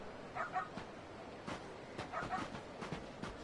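A puppy in the Yakuza 0 video game lets out a few soft, high yips and small barks in two short clusters over a few seconds, against a busy street-ambience background.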